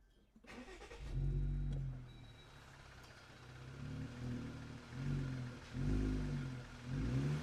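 A Jeep Wrangler Rubicon engine with an aFe Mach Force aftermarket exhaust cranks and fires up, then settles into a throaty idle with a few blips of revving, close and fairly loud.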